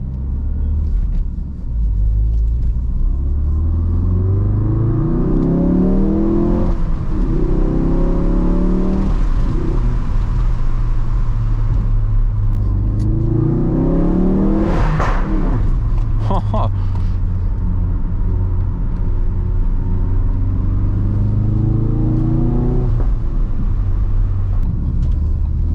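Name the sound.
Ford Focus RS engine during POV drive through tunnel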